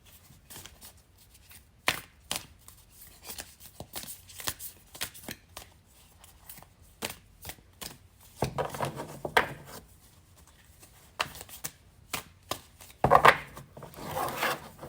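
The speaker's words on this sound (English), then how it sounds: "I'm going to shuffle one more time." An oracle card deck, the Divine Destiny Oracle, is shuffled by hand: soft papery riffles and taps come in irregular bursts, close but quiet, with a few louder flurries near the end and no speech.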